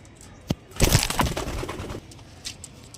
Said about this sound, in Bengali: চলো পায়রাগুলো ছেড়ে দেখিয়ে দিই